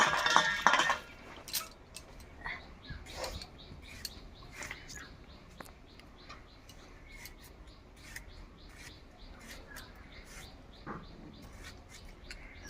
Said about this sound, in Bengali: টমেটো দুটো কেটে নেব